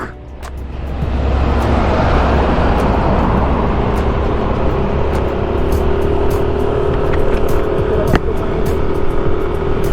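A truck passing on a road, heard from a motor scooter: a loud, steady roar of engine and tyre noise that builds quickly and holds, with rumbling traffic throughout.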